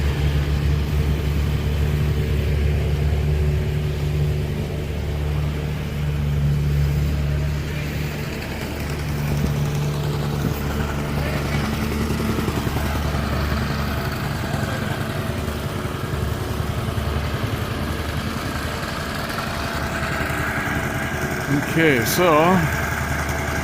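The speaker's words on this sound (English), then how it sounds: "they are running the compactors" Compactor machines run over a gravel paving base beside drainage pipes at a home foundation, giving a steady low engine rumble and vibrating thrum, with someone talking over it.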